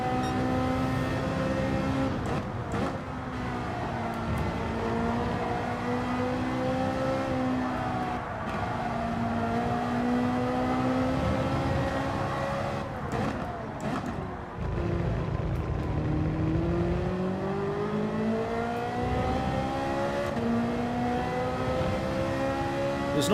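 A Ferrari race car's engine in Gran Turismo 7 revs and shifts continuously, its pitch climbing and dropping through gears as it brakes into and accelerates out of corners, loud and close with no talk.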